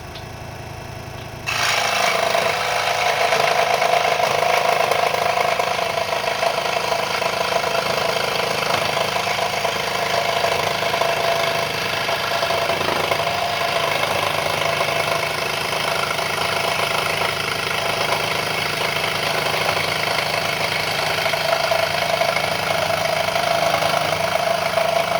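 A WEN 3921 scroll saw cutting wood gives a loud, steady motorized buzz with a rapid reciprocating chatter that starts abruptly near the beginning and runs continuously, with no talking.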